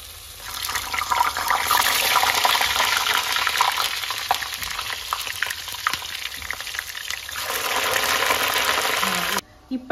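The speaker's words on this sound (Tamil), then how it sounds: "கத்திரிக்காயை அப்படியே ஒரு லைட்டாக ஒரு பொறி பொறிச்சு எடுத்துடலாம்" Eggplant being lightly fried in a pan, giving a loud, steady, dense sizzle that runs for nearly the whole stretch and then cuts off abruptly near the end; no voices are heard.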